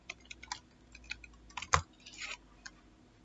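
Quick, light keystrokes on a computer keyboard enter a command, irregular soft clicks with one sharper key press near the middle, close and quiet with no talking.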